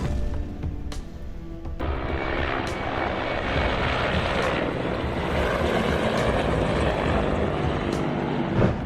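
Two Ukrainian army helicopters roar overhead during an airstrike on a petrol depot near the Russian border, a loud sustained engine and rotor drone with occasional sharp cracks breaking through.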